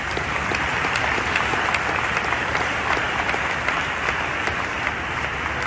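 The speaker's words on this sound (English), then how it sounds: "Big applause for everyone." Dense, steady applause from a large audience at a travel industry event, sustained at an even loudness throughout with no pauses or talk.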